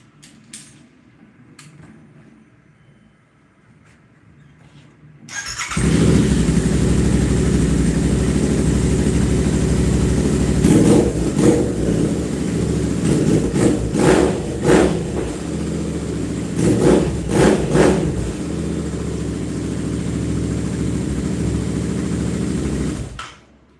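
After a few quiet seconds, a motorcycle engine fires up loud and close, idling roughly with several sharp revs punching through.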